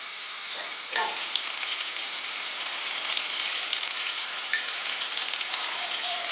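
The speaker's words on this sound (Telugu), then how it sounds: "ఇప్పుడు ఆనియన్స్ టమాటోస్ అన్నీ బాగా ఫ్రై అయిపోయాయి" Onions and tomatoes frying in a pan for egg biryani give a steady, fairly soft crackling hiss throughout, with a few sharper pops and stirring scrapes, no voices.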